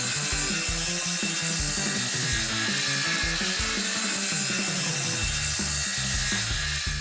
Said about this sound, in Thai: และส่วนต่อไปที่พ่อชอบมากที่สุดก็คือการเลื่อย